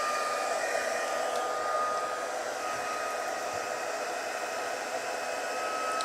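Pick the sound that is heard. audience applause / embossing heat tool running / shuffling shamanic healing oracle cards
embossing heat tool running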